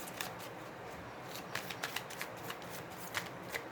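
Tarot cards being shuffled by hand, a close, quiet run of riffling and flicking with small sharp snaps spread across the stretch, no talking.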